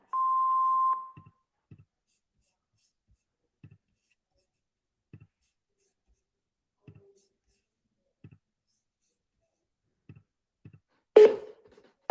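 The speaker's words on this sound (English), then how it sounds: "Please leave a message after the tone." A voicemail system's single steady electronic beep tone sounds clearly at the start, then faint sparse clicks follow, and a short louder burst of noise comes at the end.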